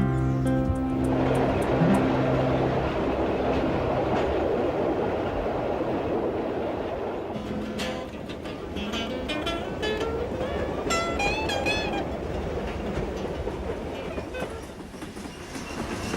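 Passenger train rolling along a railway across the Australian outback, a steady loud rumble of wheels on track with rhythmic clacking and occasional high wheel squeals, continuous throughout.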